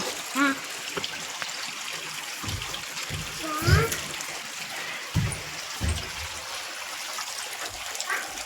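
Water flowing from a lake trickles and splashes softly beneath a child's and an adult's voices, with occasional louder splashes.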